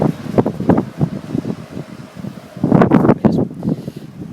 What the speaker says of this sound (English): It's very windy, very hot.